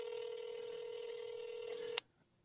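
Telephone dialing, heard as a steady tone that ends abruptly after about two seconds, faint and with no talk over it.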